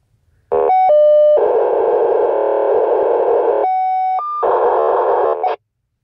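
A strange repeating signal on the 151.000 MHz 2m ham band comes through a radio receiver as loud, steady electronic tones with abrupt pitch shifts, short beeps, and a hard cutoff after about five seconds.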